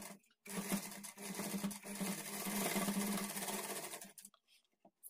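A sewing machine runs in one steady, close burst, stitching the edge of a fabric dori tassel for a blouse latkan, starting and stopping with short pauses at either end.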